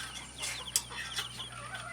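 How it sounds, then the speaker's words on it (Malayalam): Native country chicken chicks on a farm in Kothamangalam, Kerala, kept alongside pheasant chicks, give soft, scattered high peeps and chirps, fairly faint and distant over a low steady background hum. "തനി നാടൻ കോഴിയുടെ പല പ്രായത്തിലുള്ള കുഞ്ഞുങ്ങളുണ്ട്"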